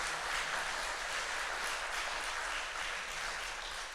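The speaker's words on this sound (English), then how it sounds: "if you could give them another round of applause" Audience at a public community forum in Port Kembla applauding the councillors, a steady wash of clapping that holds evenly throughout, moderately distant and fairly quiet.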